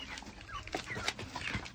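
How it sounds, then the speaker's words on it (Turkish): A dog's whimpering, yipping noises come in short bursts over a busy outdoor background, fairly close and moderately loud. "Burada köpek var."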